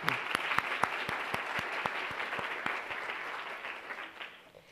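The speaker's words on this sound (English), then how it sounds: "Please join me in giving them all a big round of applause" An audience at an art symposium claps steadily for several seconds, a dense patter of hands with a few sharper individual claps standing out, gradually thinning and fading toward the end.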